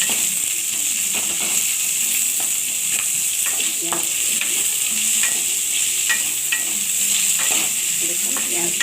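Bata fish frying in a pan with bottle gourd greens, bottle gourd stems and drumstick stems, a loud, steady bright sizzle with repeated stirring scrapes at a loose rhythm, close up and without voices.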